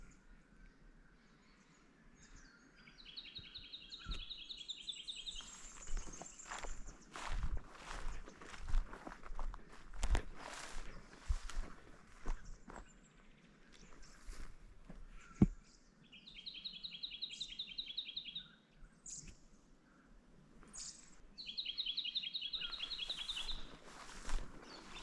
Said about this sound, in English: It sounds like a brown-headed honeyeater.